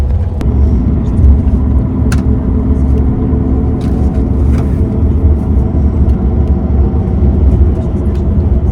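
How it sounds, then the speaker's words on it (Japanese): International coach bus travelling from Ukraine to Poland, a steady low road rumble and engine drone throughout with faint clicks and rattles from inside the cabin. "とりあえずバスは、出発しました。"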